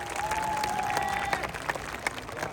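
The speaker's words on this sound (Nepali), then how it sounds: "अझै जोरदार तालीका साथ धन्यवाद दिनेछौँ" Applause from an audience at a gathering, a steady wash of clapping with a few sharper claps standing out, moderately loud and continuous, a sustained tone briefly running under the first half.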